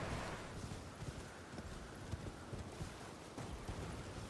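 A horse's hooves gallop in Elden Ring, a steady, dense clip-clop rhythm under a wash of in-game ambience, moderately loud and continuous.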